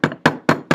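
Four sharp, evenly spaced metallic hammer blows on a rivet set against a mandrel, close and loud, each ringing briefly before the next strike.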